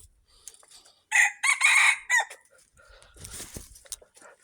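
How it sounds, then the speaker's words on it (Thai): A young rooster crows once, a loud, close cry in a few uneven bursts lasting about a second, followed by softer rustling and clucking noises. "ไก่อ่อนขัน"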